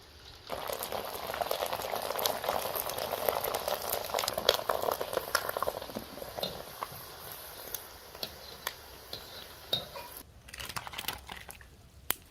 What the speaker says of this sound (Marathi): त्याच तेलात का नाही जरा शाबूचं सांडग तळून घेऊया